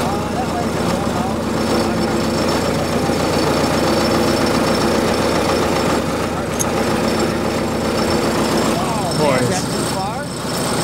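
An old, abandoned Ford tractor engine runs steadily with a loud, close, rough chugging idle and a rhythmic knocking pulse, while people talk over it.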